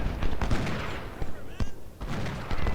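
Rifle volleys in an Ultimate General: Civil War battle at Nansemond River: repeated bursts of musket fire crackling in uneven clusters, with a voice talking over the gunfire.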